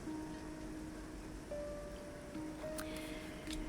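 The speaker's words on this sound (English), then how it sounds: "it is currently raining very hard, but the sun is still out" Heavy rain falling while the sun is out, a steady dense hiss of drops that fills the background evenly, with soft sustained musical tones faintly above it.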